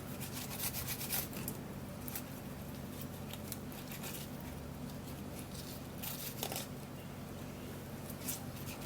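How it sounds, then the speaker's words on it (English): Aloe vera rubbed against a grater makes faint, repeated rasping strokes in an uneven rhythm over a quiet, steady background hum, close and low in level. "grater and then grate this so that I would have to get all of the juice out of this"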